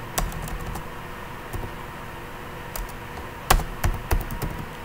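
Someone types on a computer keyboard while entering IP route commands during a network routing lesson. The keystrokes are sparse and fairly close, with a few quick clusters of taps toward the end.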